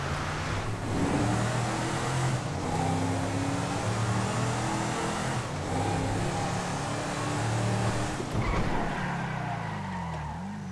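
A Lamborghini Urus limousine in GTA 5 roars as it accelerates into a tunnel, its engine droning loudly with tire skids, and the pitch sweeping upward near the end.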